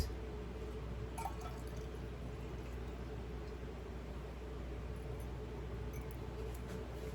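Brewed sun tea is poured with no sink below it, giving a steady, close liquid trickle with a few sharper drips standing out, and no talking.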